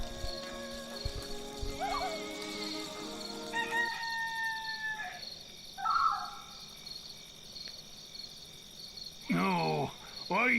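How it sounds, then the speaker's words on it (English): A rooster crows in a video game, a drawn-out synthetic call rising and falling over steady game ambience and insect-like chirping, with a second crow near the end. "This rooster wakes me up every single day."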